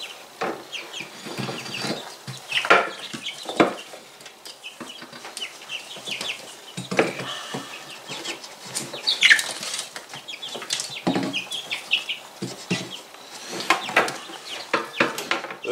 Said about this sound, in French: Là, j'arrive plus à trop savoir qui est le coq des poules.